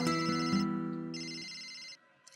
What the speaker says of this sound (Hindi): वो डैडी का फोन होगा।